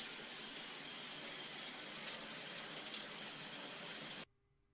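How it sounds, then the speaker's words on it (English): Water sprays from a homemade apparatus built to shower a banana. The spray is a steady, close, continuous rush for about four seconds and then cuts off abruptly, with no talking. "Dude made an apparatus to shower his banana?"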